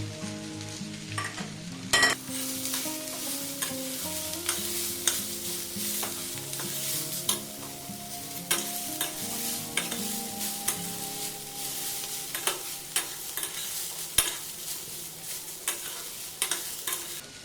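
Long-sliced onion tossed into potatoes frying in a pan for a bitter gourd dish, a steady close sizzle with repeated stirring scrapes and occasional sharp metal clicks throughout, no voices.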